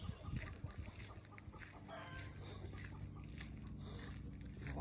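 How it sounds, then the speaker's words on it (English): Chickens cluck in the background of an outdoor recording, several soft calls scattered over a steady low ambient hum. "You hear chickens?"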